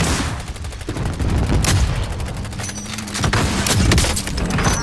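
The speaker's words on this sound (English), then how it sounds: "Killed the driver with a sniper headshot!" Sniper rifle fire in a video game firefight: loud, close, dense gunfire with heavy booming reports and overlapping shots that fill the whole stretch, with no voices.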